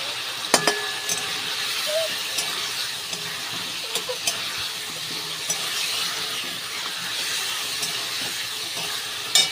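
Spices, moong dal and daliya stirred and fried in a hot pan, a steady close sizzle and hiss broken by sharp spoon clinks and scrapes against the pan, no talk.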